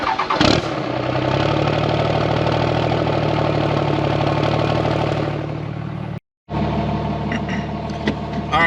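A stacked third-generation Cummins diesel truck engine roars loudly and steadily close by, with a deep low drone, a brief dropout, then continued running.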